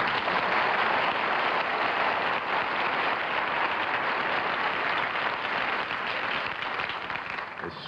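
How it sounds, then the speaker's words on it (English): Sustained, dense applause from a television game-show studio audience, loud and steady throughout before easing slightly near the end, with no talking over it. "You hear such fine, spontaneous applause."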